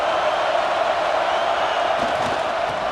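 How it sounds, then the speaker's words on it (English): Stadium crowd in EA Sports College Football 26 roaring steadily as a dense, continuous wall of cheering, loud and unbroken, with a slight swell near the end. "the crowd coming to life here, trying to help this defense down in the red zone"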